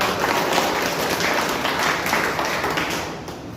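Loud, dense applause from an audience at a talk promoting AWPL health products, steady clapping filling the room for several seconds before easing off slightly at the end.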